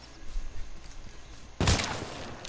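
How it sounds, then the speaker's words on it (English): A single sharp sniper gunshot rings out in H1Z1, a sudden loud crack with a decaying tail arriving after a stretch of quiet low rumble. "Oh, shit, I got sniped from the back."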